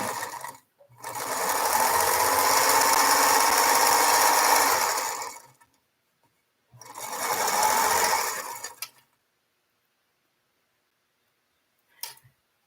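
A non-computerized home sewing machine stitches quilt pieces together, running in two steady whirring bursts, a long one then a shorter one, separated by silence, with a faint click near the end.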